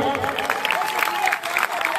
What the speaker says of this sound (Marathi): जोरदार टाळ्या व्हायला पाहिजे